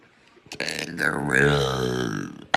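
A single long, loud, close belch with a rising and falling gurgling pitch, alone with no talk, ending in a short click.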